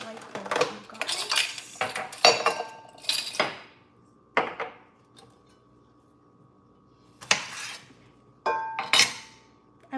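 Cucumber salad being transferred into a white bowl, with a run of clinking dish and utensil contacts in scattered bursts, near and fairly loud, separated by short quiet gaps.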